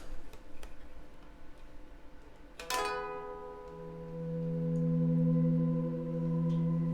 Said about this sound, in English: you'll use your pinky to increase the volume pot, which will sound something like this.